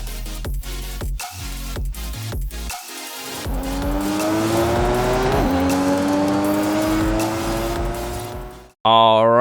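A Nissan 240SX with 250 hp drifts in Forza Horizon 5, its engine revving up in a long rising pull while tires squeal, following a choppy burst of sound, with a short different sound cutting in at the very end.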